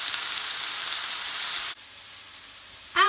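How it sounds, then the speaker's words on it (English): Chicken fries in a very hot pan with a loud, steady hiss and crackle that cuts off abruptly partway, leaving a quieter sizzle before a brief clatter at the end. "the chicken is sizzling away in the pan"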